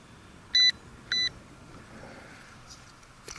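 Two short electronic beeps from a Syma X11 quadcopter's handheld transmitter, set for high rates, each about a tenth of a second and evenly spaced, with faint outdoor wind noise filling the background on a windy night.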